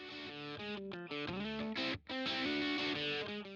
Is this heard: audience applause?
no